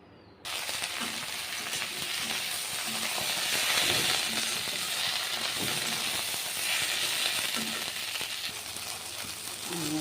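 Oil sizzling in a wok, a sudden loud hiss that starts abruptly and continues as a close, steady crackle with occasional light clinks and scrapes.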